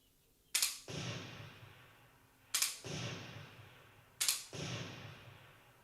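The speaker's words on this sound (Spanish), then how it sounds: "en este caso efectuó 2 disparos a un blanco de 50 metros" Three sharp shots from a CO2 training rifle crack out at even intervals, each followed by a short hissing tail, loud and close in an otherwise quiet space.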